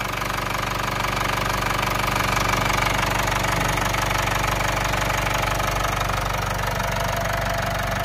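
A car engine idles smoothly and steadily at close range, a continuous even hum with no rattling or knocking from the timing case area standing out.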